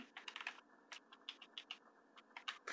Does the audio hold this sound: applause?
no